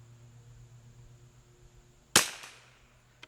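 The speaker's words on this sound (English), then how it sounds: "We'll shoot at this spot." A single sharp .22LR rifle shot fired at a long-range target outdoors, a loud crack with a short fading tail over a quiet background hum.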